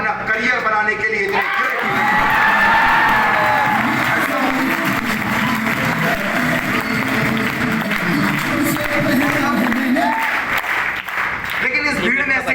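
A crowd at a motivational seminar in Amravati, Maharashtra claps and cheers loudly for about ten seconds, dense sustained applause with whoops and shouts, a voice audible over it near the start and end.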